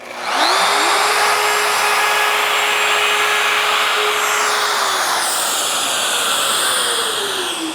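Festool MFK700 trim router routing a workpiece edge with dust extraction attached: a loud, sustained high-pitched motor whine with a steady hum and airy extractor hiss, changing pitch slightly near the end, heard alone.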